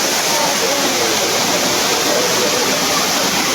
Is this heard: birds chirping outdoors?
no